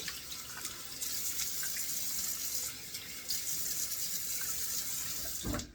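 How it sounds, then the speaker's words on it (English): Cold water runs from a bathroom tap into the sink during a wet shave, a steady close splashing rush with brief surges in flow and a few sharper splashes near the end. "it's time to put on the cold water here and get a couple of splashes"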